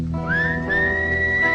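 Someone whistles a single long rising then sustained note, clear and fairly close, over a low background drone in a film scene, with no speech.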